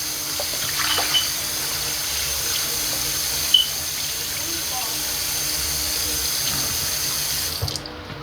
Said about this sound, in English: I'm just washing them, guys, so I could have them cut.